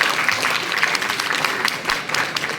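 Schoolchildren at a Kendriya Vidyalaya awareness-campaign prize ceremony in Shimla clap together in a dense, continuous wash. The crowd applause is fairly loud and sustained, with no pauses.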